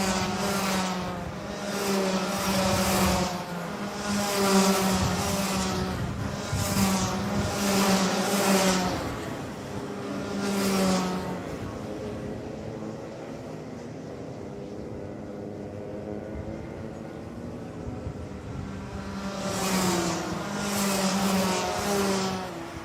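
Rotax racing karts at a track circuit during an Asia festival event drone loudly as their engines rise and fall in repeated passes, with a quieter lull mid-way before more karts roar by.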